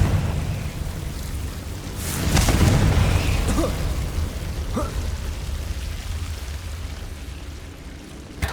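A Confringo fire spell in Hogwarts Legacy bursts with a deep booming explosion. Crackling debris follows, and a fainter rumble and a couple of small impacts trail off.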